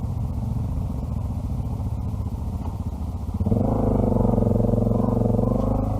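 An Africa Twin or DR650 motorcycle riding off near a huge Southern Hemisphere forest, a steady idle that swells into a louder, rising engine rumble partway through, close by, with no speech.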